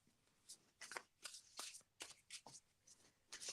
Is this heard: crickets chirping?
no